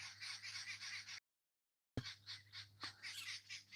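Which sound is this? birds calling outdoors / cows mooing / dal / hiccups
birds calling outdoors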